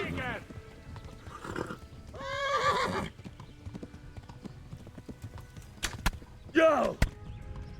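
A horse in the medieval game Kingdom Come: Deliverance trots with hollow clip-clopping hooves and lets out several sharp whinnies, while someone talks over the game sounds.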